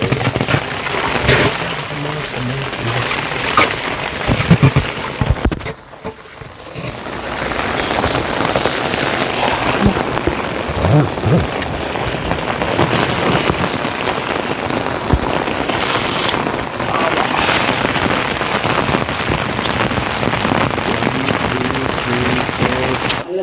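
Heavy rain pours down in a village, a loud, dense, continuous roar of drops on surfaces that briefly dips before resuming at full strength for the rest of the stretch.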